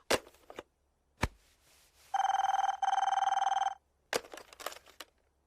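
A telephone rings in two long electronic bursts, bracketed by sharp clicks and knocks, with quiet gaps in between.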